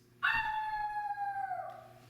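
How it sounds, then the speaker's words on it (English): A lone wolf howl rises abruptly into one long, sustained tone and slides downward as it fades, lasting about a second and a half with no voices. "he heard a wolf howling in the distance"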